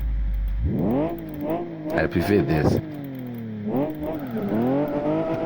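A modified car engine in the game Live for Speed 0.6R revs up and falls back in rising and falling sweeps, a tuned, buzzy tone, with a voice speaking briefly over it.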